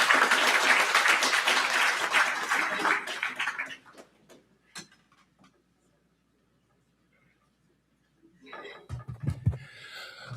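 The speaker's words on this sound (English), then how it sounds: "Give us a applause." A summit audience applauds loudly at a climate event, the clapping dense and sustained for about four seconds before fading into near silence, then a few scattered claps and light handling sounds return near the end.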